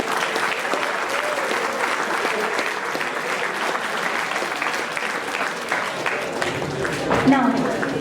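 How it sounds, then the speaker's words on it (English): An audience at a Ministry of Micro, Small and Medium Enterprises event at DBIT claps in sustained, dense applause that holds steady throughout and swells briefly near the end. "we all should give her a louder round of applause for this"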